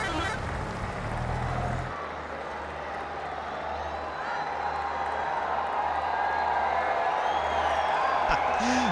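A large stadium crowd at a Pakistan Super League T20 cricket match cheers the Multan Sultans captain reaching fifty, a steady, broad roar of voices and whoops that swells slightly toward the end.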